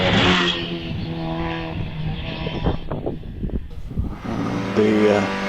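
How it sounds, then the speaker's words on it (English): A little 1960s Austin A40 accelerates away up a hillclimb course, its engine note rising and falling over several seconds, with a commentator's voice running over the top. "And away goes the Austin A40 then,"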